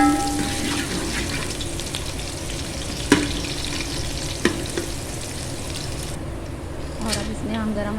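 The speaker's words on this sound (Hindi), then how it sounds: "अब इसमें शामिल करेंगे हस्बे ज़रूरत ऑयल और इसमें शामिल करेंगे प्याज।" Onions fry in oil in a pan, giving a steady, fairly loud sizzle with a few clinks from stirring, and a voice speaks over the cooking.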